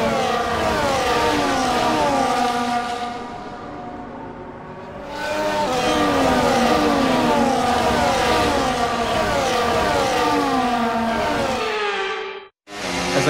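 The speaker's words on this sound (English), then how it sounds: "Here we go then, the formation lap is underway" F1 cars on the formation lap in the video game F1 24 at the Australian circuit, a loud high-revving engine climbing through gear changes, easing off midway, then revving hard again before cutting out near the end.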